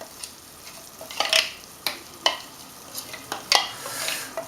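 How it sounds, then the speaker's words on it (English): Pasta with pesto being stirred and tossed in a pan, loosened with starchy potato water, giving soft scraping and clinking taps over a faint sizzle, several irregular bursts close by with no talk. "use that potato water and give that a little toss around"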